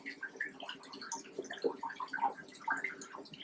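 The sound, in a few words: Aquaclear 30 hang-on-back aquarium filter water flowing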